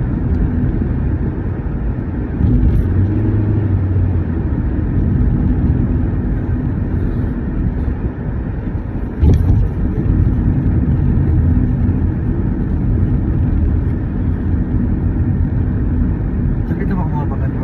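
A car driving away from Palmerston North airport, a steady loud engine and road rumble filling the whole stretch, with people talking over it and a brief knock partway through.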